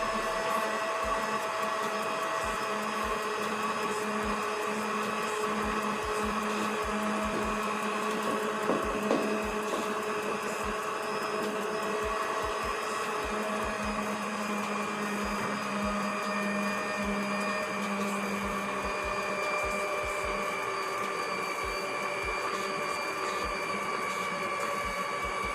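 Steady, loud electric mixer hum blending brownie batter while dry ingredients are added, a continuous whirring drone that holds evenly throughout with no speech.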